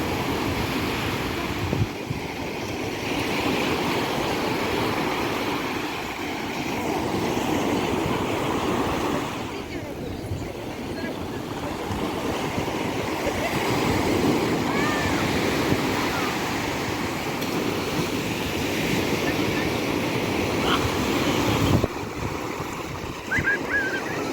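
Black Sea surf rolls onto a beach in Odesa on the last day of September, a continuous close wash of breaking waves with wind rumble on the microphone and people talking nearby.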